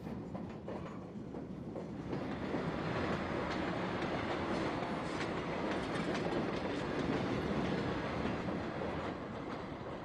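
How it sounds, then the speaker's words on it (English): Southbound Budd diesel rail cars pass, a pair of RDC-3s followed by an RDC-1, each driven by small Detroit diesels through hydraulic torque converters, a loud continuous rumble with clattering wheels that builds and holds steady. "This southbound train is led by a pair of RDC-3s followed by an RDC-1."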